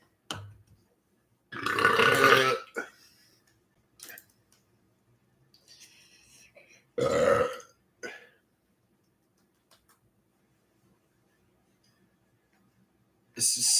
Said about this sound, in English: The seltzer water is really producing some great burps here.